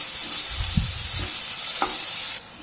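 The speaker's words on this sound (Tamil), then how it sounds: "கொஞ்சமாக கருவேப்பிலையும் போட்டு கொஞ்சம் நேரம் வதக்கிக்கணும்" Small onions and curry leaves sautéing in a pan for a drumstick poriyal, giving a steady close sizzle with a few soft stirring scrapes and no voices.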